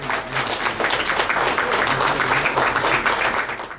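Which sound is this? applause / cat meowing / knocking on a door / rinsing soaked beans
applause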